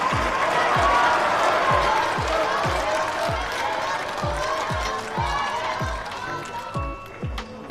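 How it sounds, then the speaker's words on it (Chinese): An audience applauds a team of Honor of Kings players at a live show, broad steady clapping under a pulsing, regularly thumping music beat, with crowd noise throughout. "请我们的观众朋友送一些掌声给到他们"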